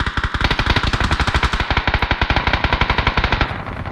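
Automatic gunfire in PUBG on the Taego map rattles out as one loud, rapid, evenly spaced burst of shots that lasts several seconds before cutting off.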